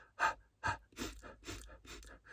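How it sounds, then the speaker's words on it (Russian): Short, light exhales through the mouth in a Strelnikova breathing exercise, a series of about six soft, breathy puffs, the first two sharper and the rest quicker and more even, close and fairly quiet with no talking. "Я делаю через рот, потому что своим коротким таким легким выдохом я слегка прогреваю свои связки"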